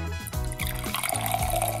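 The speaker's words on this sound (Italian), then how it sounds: "così posso versare quest'acqua!" Water being poured into a container that holds pencils, a steady close splashing trickle lasting a couple of seconds.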